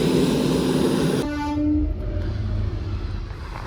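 Train going past a railway level crossing, its horn blaring loudly before cutting off, followed by the rumble and rhythmic clatter of wagons rolling by close at hand.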